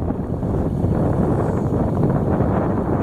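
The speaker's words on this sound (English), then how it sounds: "Wind's blowing pretty hard today too" Strong wind blowing hard on an open hilltop with windmills in Alaska, a loud steady roar buffeting the microphone with no pauses.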